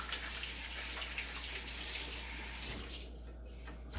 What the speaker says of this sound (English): So I'm just washing my lemons.